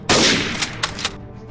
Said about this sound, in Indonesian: Kemudian anak buah pemburu menembak lagi.